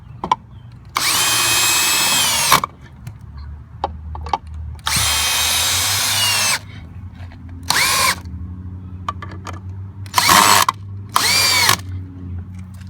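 A power drill set to its drill mode on the highest setting bores into a wooden log in several long whining bursts, the longest lasting a couple of seconds, with short pauses and quiet handling noises between them.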